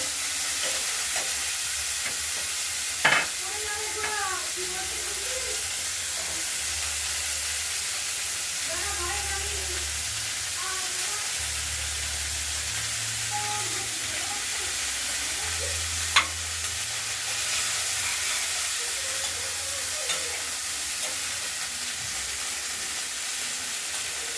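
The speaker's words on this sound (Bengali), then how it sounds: "এবার কড়াইতে দিয়ে দিলাম নাড়াচাড়া করবো" Chopped cauliflower and slit green chilies stir-fried in a wok, a steady close sizzle throughout with repeated scraping and stirring thumps and a couple of sharp clanks.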